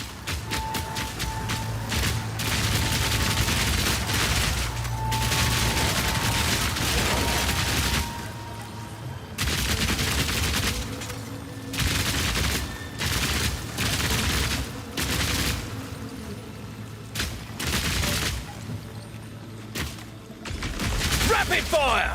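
Rapid automatic crossbow fire in the action RPG Path of Exile 2, a dense, loud barrage of repeated shots and impacts with game effects, pausing briefly around the middle before the volley resumes.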